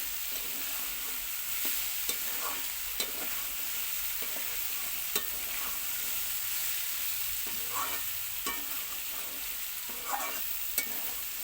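Steady hissing sizzle of chickpeas frying with dried red chilies in a pan, with occasional scraping stirs and small pops throughout, close and fairly quiet.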